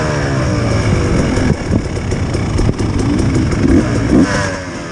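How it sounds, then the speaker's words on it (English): A motocross motorcycle sets off on a track at a Hawkstone Park enduro sprint event, its engine buzzing loudly nearby and rising as it pulls away, with rough track and background racket underneath. "So there's Charlie Frost just setting off there, we're getting ready to the run now"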